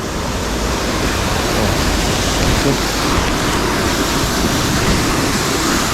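A waterfall high in the hills roars as a dense, constant rush of falling water, loud and close, with no break across the whole stretch.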